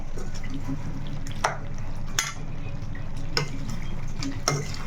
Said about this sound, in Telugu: చక్కగా మనకి బాగా వేగుతుంది